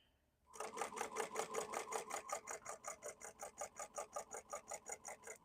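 A sewing machine stitches a long basting seam on a tote bag with a shaker pocket, a steady close, rapid mechanical chatter in even pulses that starts after a brief quiet moment and runs on alone.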